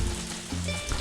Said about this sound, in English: And it's raining, which is awesome.